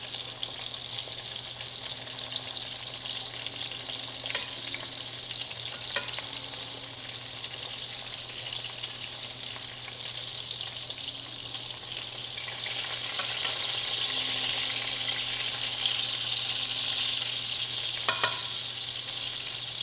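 Schnitzel frying in a pan gives a steady, broad hiss of hot fat with a faint hum underneath, and a few soft clicks and scrapes as the pieces are turned, running unbroken and fairly close.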